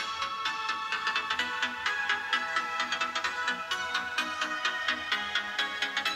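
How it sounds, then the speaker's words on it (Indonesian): A Samsung Galaxy S20 FE phone speaker with Dolby Atmos, turned up to full volume, playing a bright, rhythmic tune that rings out steadily and loudly throughout. "Dolby Atmos kita kencengin sampai full."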